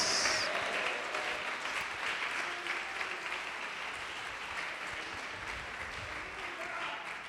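Congregation applauding during a church service, a dense steady wash of clapping from a crowd that stays fairly even and moderately loud throughout.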